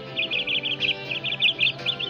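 Small bird chirping in a quick series of high, bright tweets over a soft tonal background, two bursts of repeated notes without any talk.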